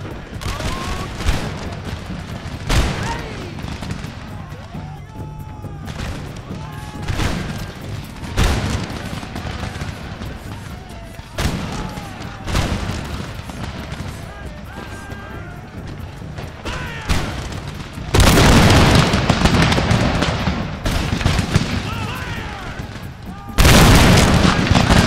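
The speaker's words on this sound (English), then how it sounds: "Now these guys are going to fire their volley again" Musket volleys crack and boom repeatedly in a line-infantry battle between American and British armies in Empire: Total War, with dense rolling fusillades and heavier bursts near the end, while someone talks over the gunfire.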